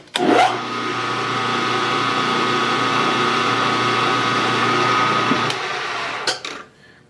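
A center drill bores into a workpiece on a machine set up for building a Stirling helicopter, a steady whining motor hum that runs for about five seconds before spinning down, with brief clicks at start and end.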